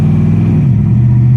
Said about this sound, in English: just taking off down the road, just light sort of throttle just to go through the gears